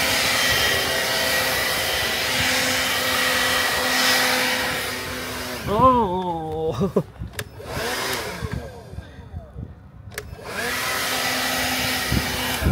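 A blower roars steadily outdoors in cold, windy weather, loud and close, cutting out briefly midway while a voice exclaims, then starting up again.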